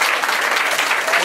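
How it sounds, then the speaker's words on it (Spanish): Crowd at a Mexican solidarity market event giving a loud, dense round of applause, continuous clapping throughout. "Un fuerte aplauso."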